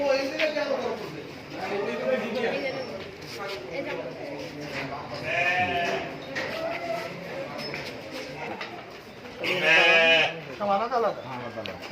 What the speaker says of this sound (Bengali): একটি ছাগলের ফার্ম এখানে দেশি বিদেশি বিভিন্ন প্রজাতির ছাগলের প্রজনন করা হয়